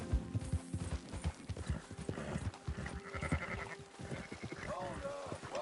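Horse hooves clip-clop steadily in Red Dead Redemption 2, a brisk rhythmic beat of close, moderately loud steps joined by bleating livestock and a brief voice.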